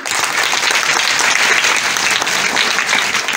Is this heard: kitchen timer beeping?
no